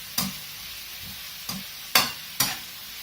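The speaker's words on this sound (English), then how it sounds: "And give it a good stir." Spinach leaves stirred in a hot frying pan, four or five sharp scraping strokes against a faint steady sizzle.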